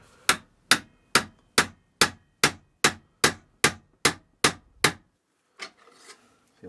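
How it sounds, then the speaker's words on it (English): Hammer striking a large punch to seat a part in a pre-ban AR-15 upper receiver: about a dozen sharp, evenly spaced metallic whacks up close, then a pause and a softer knock with light handling noise. "I'm going to take my giant punch here and I'm going to give it a couple whacks"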